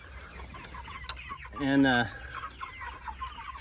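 Broiler chickens in a pasture tractor on a small farm clucking nearby, with one louder, drawn-out clucking call standing out briefly amid softer background clucks, while someone speaks a single word.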